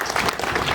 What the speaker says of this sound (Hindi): एक बार राहुल सिंह राजपूत के लिए जोरदार ताली।